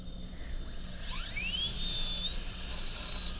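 A dental drill burr cuts into a tooth during an MOD amalgam preparation, a high, thin whine that rises sharply in pitch and then holds steady, close and fairly loud over faint background hum.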